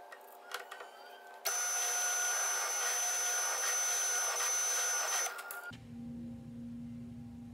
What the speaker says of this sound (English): I only want to drill halfway, so make sure you set the stop gauge and that you only are going halfway